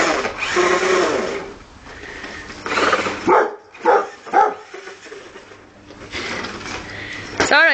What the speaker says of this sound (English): They're okay barking in the day.